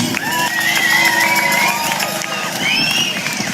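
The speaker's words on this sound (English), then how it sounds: "Give a round of applause for Hector Robertson." Protest crowd in Wellington, New Zealand applauding and cheering at a rally, a broad steady wash of clapping with whistles and voices mixed in, moderately loud and continuous.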